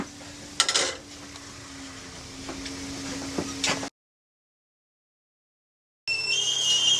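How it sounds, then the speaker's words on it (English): A whistling kettle at the boil sounds a steady high-pitched whistle that cuts in loudly near the end, after a spell of background clatter and a brief silence. "I love your song, you are a lovely kettle."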